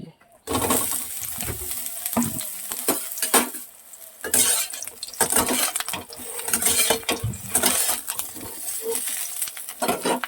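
Squeezed, water-soaked large soybean chunks are stirred in a frying pan, a spatula scraping and clinking against the metal in busy, uneven strokes over a light sizzle, close and fairly loud.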